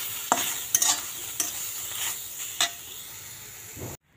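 Coriander leaves dry-roast in a pan without oil, a soft continuous sizzle broken by several sharp scraping clacks of a spatula stirring against the pan, ending abruptly.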